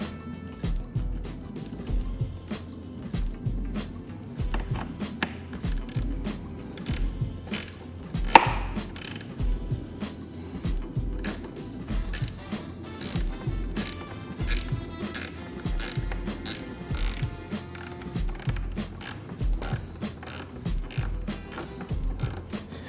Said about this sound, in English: I'm gonna use a socket instead